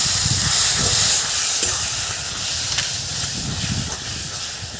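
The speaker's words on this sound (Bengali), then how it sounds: "ঢেলে দিচ্ছি আমি তেলাকুচু পাতা বাটা।" Ivy gourd leaf paste hits hot oil tempered with nigella seeds and onion, giving a steady, fairly loud steaming hiss and sizzle that holds for about five seconds with low bubbling underneath.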